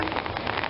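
Steady rain drumming on a surface near the Pali Lookout on a wet day, a dense, continuous patter heard up close with no other sounds.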